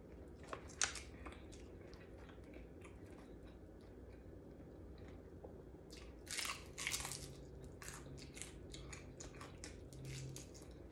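Crisp crunching bites into freshly fried tilapia, a few sharp crackly bursts close up, with quieter chewing between them.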